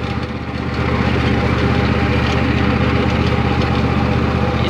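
A riding lawn mower engine drones steadily while driving, a loud close hum with a constant pitch that swells slightly after the first half second and then holds level.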